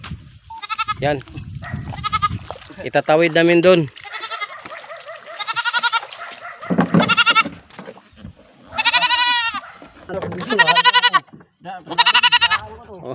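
Four goats being loaded onto a small boat for a crossing bleat repeatedly, loud and close, in a string of wavering cries mixed with Tagalog speech.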